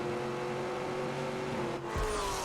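A Lennox Exorcist, a car powered by a supercharged Corvette Z06 engine, launching in a Grand Tour game, with a loud steady engine drone that briefly dips near the end before surging again.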